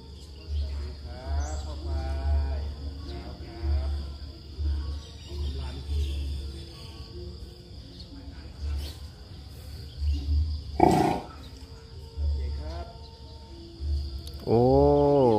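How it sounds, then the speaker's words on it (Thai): A bull elephant gives low rumbling roars amid a chorus of crickets and birds, with a loud close burst near the end over a low continuous drone. "เสียงคำราม"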